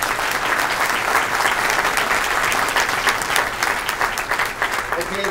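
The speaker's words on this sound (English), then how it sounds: "How about a round of applause for all three candidates?" Dense, continuous applause from an audience at a chamber of commerce candidate forum, loud and sustained throughout, with some voices mixed into the clapping.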